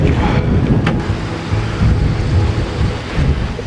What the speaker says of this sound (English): in this swelly kind of weather, the mast is moving all over the place